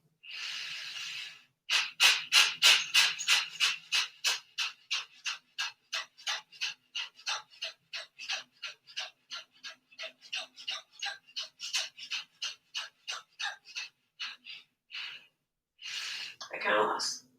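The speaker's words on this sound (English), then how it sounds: "One more deep inhale and exhale, and then we'll move to 36 breaths." Rhythmic deep breathing in a yoga breath exercise: a fast, steady run of about forty close, forceful exhale bursts, evenly paced, followed by a brief pause and a longer breath, with no talk over it.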